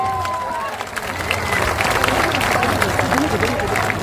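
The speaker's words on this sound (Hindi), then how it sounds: "जोरदार ताली बजाइए।" Audience applause at a political party launch event, a dense steady crowd clapping with some murmur and cheering, loud and sustained throughout.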